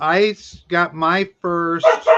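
A dog barks repeatedly and close by, four or five sharp, harmonic barks with brief pauses between them, while someone speaks over the last of them.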